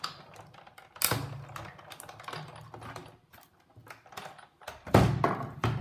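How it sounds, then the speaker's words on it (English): Hand-cranked die cutting machine running cardstock and a framelit through between cutting pads, a series of clicks, ratchety taps and a few louder clunks, close and uneven. "I'm going to put the top standard cutting pad on and hold it in place. And then I'm going to run it through"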